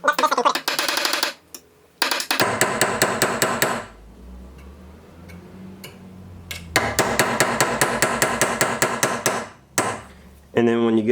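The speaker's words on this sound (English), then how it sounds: "you want to hammer in at a higher degree than normal" Hammer strikes driving wire into a steel workpiece for wire inlay, loud rapid metallic taps in quick bursts separated by short pauses.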